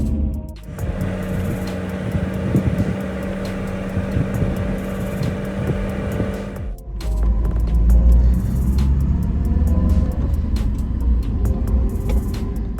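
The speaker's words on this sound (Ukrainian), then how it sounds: "на тахометрі показує 3000 обертів на годину і трошки чути шум салону" Steady interior road and engine noise inside a JAC S2 car while driving at about 3000 rpm, a continuous low rumble with a brief dip and a heavier, louder low-end drone in the second half.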